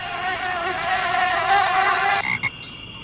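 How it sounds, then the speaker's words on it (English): Insects drone steadily in a swamp in the game Amerzone, a close, wavering buzz of flies with frog-like croaks beneath, cutting off abruptly near the end. "Oh, no, flies again."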